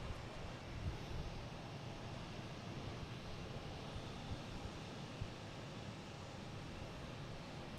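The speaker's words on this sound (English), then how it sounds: "next taking off, we have United Airlines heading to Dulles" A United Airlines airliner taking off from Boston Logan is heard as a broad, steady roar of jet engines from a distance. The sound stays even throughout, with no voices.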